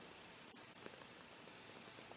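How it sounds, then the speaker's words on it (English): A cat purring steadily and softly up close while being petted, a continuous low rumble with faint rustling over it and no voices. "She's purring so much."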